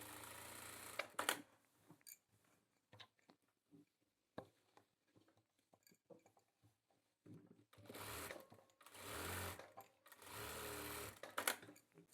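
A sewing machine stitches a joint seam on a gents kurta in several short bursts of fast mechanical whirring, separated by quiet pauses and small clicks, with two longer runs near the end.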